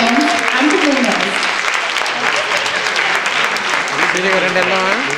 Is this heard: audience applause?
yes